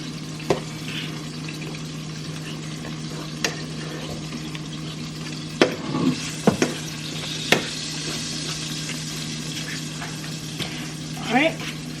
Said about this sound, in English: You're mixing all the onions, the minced garlic, all your seasoning, and then the jackfruit together with the barbecue sauce.